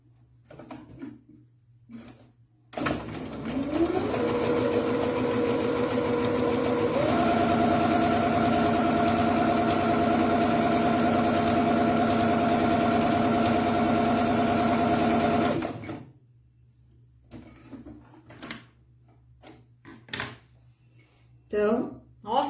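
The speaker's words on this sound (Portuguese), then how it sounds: "e vou costurar." A domestic sewing machine stitches fabric for about twelve seconds, a steady loud motor hum with rising pitch as it speeds up, then stops, with short clicks and handling sounds before and after.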